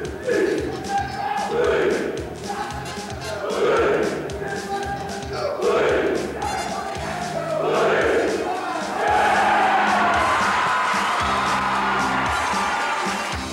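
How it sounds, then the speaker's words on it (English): High school football team at a homecoming event in Owatonna, Minnesota, leading a cheer: repeated rhythmic group shouts about every two seconds, building into sustained crowd yelling and cheering, loud and close with a big echoing hall. "I'd like to ask Mike to step forth and lead the football team in a cheer"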